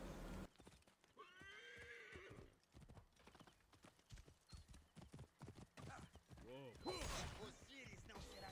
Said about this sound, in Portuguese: Então vou chamar meu cavalo.